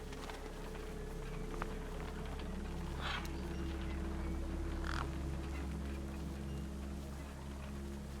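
Two short bird caws sound in the Beyond a Steel Sky video game, spaced about two seconds apart over a constant low ambient hum, no talking.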